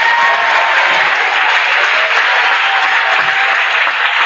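Steady, sustained applause from a church congregation clapping in praise to the Lord, many hands at once forming a continuous even roar, with no voices over it.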